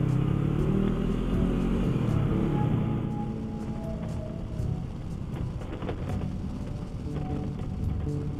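Motorcycle engine droning and rumbling steadily while riding on a winter road, with wind noise and a slight drop in revs partway through.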